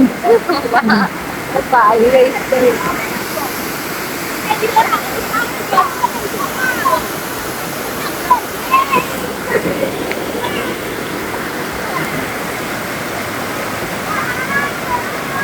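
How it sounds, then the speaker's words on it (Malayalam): A waterfall near Mulavannur roars in a continuous, loud, broadband rush of falling water, close by and unbroken, with faint bursts of distant voices mixed in early on. "മുളവന്നൂർ സൈഡിലുള്ള ഒരു വെള്ളച്ചാട്ടത്തിലേക്കാണ് വന്നിരിക്കുന്നത്"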